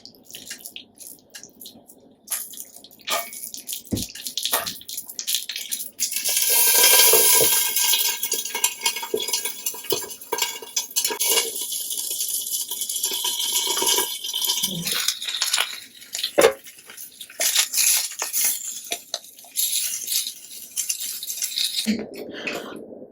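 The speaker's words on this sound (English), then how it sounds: "Add the stuffed capsicum and fry it on all the sides." Stuffed capsicum sizzling and frying in a hot pan, a steady loud hiss with crackling and spattering that swells after a few seconds and carries on, with occasional clatter as the peppers are turned, no talking.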